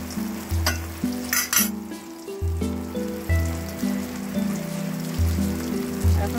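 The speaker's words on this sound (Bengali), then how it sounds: "তো এখন ডিমগুলো ভাজবো।" Stinging catfish (shing) roe fries in a pan with a soft, continuous sizzle and occasional crackles, partly masked by louder background music.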